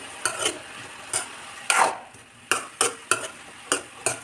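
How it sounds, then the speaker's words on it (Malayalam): Chopped banana stem stirred in oil in a pan, a series of distinct scraping stir strokes at uneven intervals over a soft sizzle, close and fairly loud with no talking. "ഇനി ഇത് കുറച്ച് സമയം എണ്ണയിൽ ഇങ്ങനെ വഴറ്റിയെടുക്കാം"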